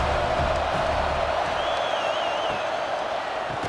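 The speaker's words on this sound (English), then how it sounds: "This Auburn crowd trying to conjure up a little magic here on 3rd down" A stadium crowd at Auburn in a college football video game roars in a steady, broad wash of cheering that fades slightly toward the end, with a commentator's voice faintly under it.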